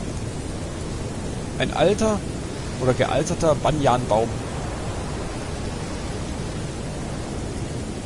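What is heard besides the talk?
heavy rain in the video game Detention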